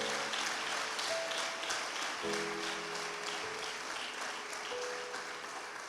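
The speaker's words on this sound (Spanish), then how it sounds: "le dan un aplauso al Señor" A church congregation applauds during a Spanish-language sermon, with dense, sustained clapping that fills the room and fades slightly toward the end, while faint tones sound beneath it.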